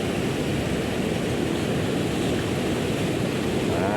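Steady, loud roar of waves below a dam, a continuous wash of broadband noise with no voices.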